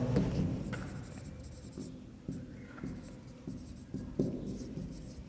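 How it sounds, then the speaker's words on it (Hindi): Chalk or marker writing on a board in a classroom lesson, a series of short scratchy strokes and taps at moderate distance, quiet and without speech over it. "चलो इसको साफ लिख देता हूं"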